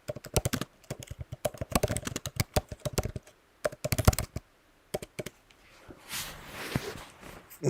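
Rapid bursts of typing on a computer keyboard, close and clear, with irregular clusters of key clicks separated by short pauses and a softer rustle near the end.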